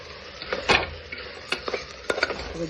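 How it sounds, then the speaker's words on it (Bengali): Spoon scraping and stirring a pot of khichdi made of rice, dal and vegetables with spices, a few irregular clinks and scrapes over a soft background hiss, no voices. "ভালো করে কষিয়ে নিচ্ছি মশলা দিয়ে"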